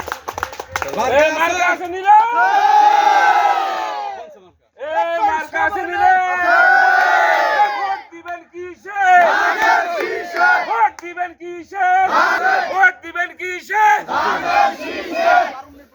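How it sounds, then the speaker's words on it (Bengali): A large crowd chants political slogans in loud, rhythmic group bursts with short pauses between them, at an election rally for the sheaf-of-paddy (ধানের শীষ) candidate Abul Hasan Titu. "স্লোগান দেন"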